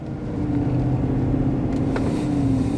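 A pickup truck engine fitted with a new cold air intake revs steadily, giving a close, loud, low rumbling drone with a slight rise in pitch and no voices.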